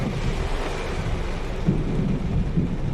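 Heavy rain pours steadily with deep rumbling thunder rolling underneath during a storm near Taal Volcano, a dense, continuous roar with no voices.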